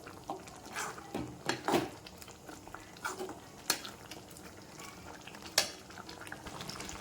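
Soybean gravy being stirred in a pan gives soft scraping and clinking strokes at irregular intervals, a few sharper knocks standing out over a low simmering background.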